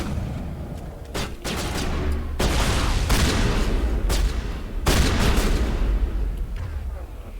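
Shotgun fire in Mass Effect Legendary Edition, loud sharp blasts at irregular intervals over dense battle noise of other gunfire and booms.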